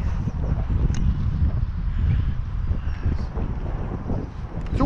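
Wind gusting across a trout fishery at Lechlade on a dark, cold day, a steady low roar and buffeting on the microphone with no pauses.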